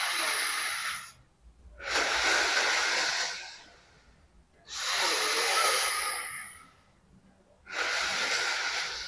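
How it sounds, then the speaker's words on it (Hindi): Slow, deep belly breaths taken close to the microphone: three long airy exhales and inhales alternate with short quiet pauses, alone with no talking. "जब आप सांस को भरोगे तो आपका पेट बाहर आना चाहिए, और जब आप सांस को छोड़ोगे तो आपका पेट अंदर जाना चाहिए"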